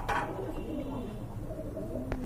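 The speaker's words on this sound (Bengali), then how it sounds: "আরেক জোড়া কবুতর দেখতে পাচ্ছেন, কোয়ালিটি ফুল ড্যানিশ দেখতে পাচ্ছেন" Danish pigeons of a red-feathered pair at a pigeon sale coo in low, steady murmurs, fairly faint and heard on their own without talk.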